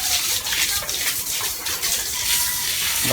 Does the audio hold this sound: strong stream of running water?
yes